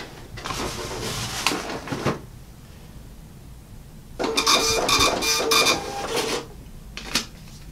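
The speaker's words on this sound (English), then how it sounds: "it prints a test receipt" A kitchen receipt printer connected to a tablet point-of-sale app runs a test print, with two bursts of buzzy mechanical printing and paper feed separated by a quiet pause, ending in a short final clack.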